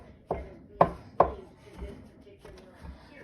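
Pasta dough of eggs and flour being chopped and scraped on a board with a bench scraper: a few sharp, close knocks, three strong ones early, then softer scrapes and taps.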